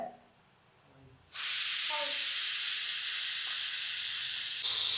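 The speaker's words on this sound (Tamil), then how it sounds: "குக்கர் விசில் ஒன்று வந்துட்டுருக்கு" After a brief quiet moment, a pressure cooker whistle bursts into a loud, continuous steam hiss that holds steady to the end.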